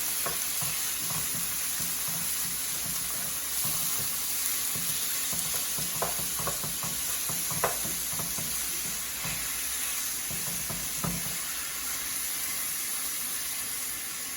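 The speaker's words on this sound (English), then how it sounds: "with some hot oil in the pan so that it doesn't stick. We're going to brown this up." About 2.5 pounds of steak browns in hot oil in a pan over medium-high heat, a continuous close sizzle with scattered spits and pops and a few light utensil knocks, no one speaking.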